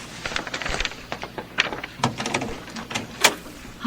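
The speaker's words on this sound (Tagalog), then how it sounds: "Teka, bubuksan ko yung pinto." A door being opened indoors: a few close clicks and clatters of a latch and handle, then sliding and knocking sounds, with scattered faint background noise.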